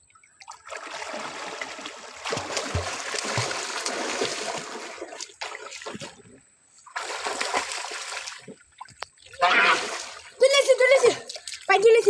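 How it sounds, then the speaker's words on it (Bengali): A boy dives into water while fishing, producing several bursts of splashing and churning water separated by short pauses, close by, with voices talking between and over the splashes. "গ্যাস দেখেন এই যে আমি ডুব দিতেছি"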